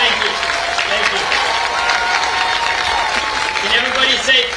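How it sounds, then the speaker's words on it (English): Crowd applause at a March for Our Lives rally against gun violence, a dense, sustained wash of clapping and cheering from a large outdoor crowd, with voices mixed in. "Can we give a round of applause to Manny and Patricia?"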